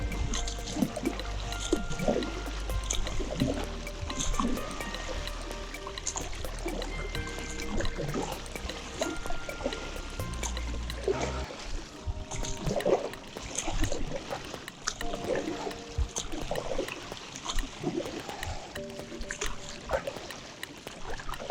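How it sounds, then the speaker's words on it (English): Paddling a Tower recreational paddle board back to shore at a good clip, with steady splashing and water wash from the paddle strokes, plus wind or board noise, loud and close throughout. "And now we're gonna paddle back to shore."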